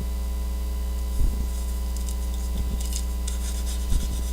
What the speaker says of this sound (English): And I'm just going to go ahead and burnish that in there, just like that.